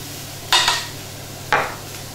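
Chopped onions and sliced mushroom are tipped into a hot pan where steak has been caramelised, giving two short bursts of sizzling and clatter about a second apart, with near silence between them.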